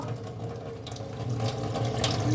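Water running from a household pump, a steady rushing flow with a faint hum underneath, close and unbroken throughout with no voices.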